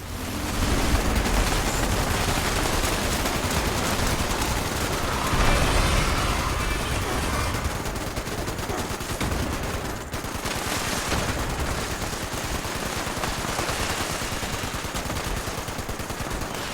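Sustained gunfire in Fallout 76, dense overlapping shots and bursts rattling continuously at a loud level, with one heavier blast partway through and no talk.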